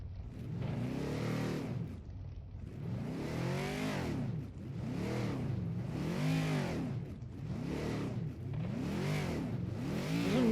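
A simulated car engine in Project Cars 2 rises and falls in repeated arcs, about six rev blips in steady rhythm during heel-toe downshifting under braking, loud and close with no talk.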